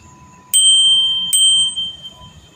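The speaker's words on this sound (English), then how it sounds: "That's that notification bell." Two rings of a bright bicycle-style notification bell, close and loud, each a sharp metallic strike followed by a sustained ringing tone that fades out.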